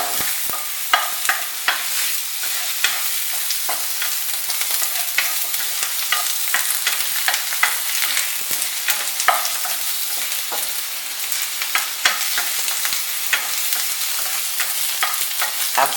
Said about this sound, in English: Saute it till it's turning golden brown.